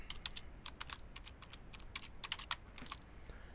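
A password being typed on a computer keyboard gives rapid, uneven clusters of light key clicks, close and quiet, with short pauses between bursts and no speech.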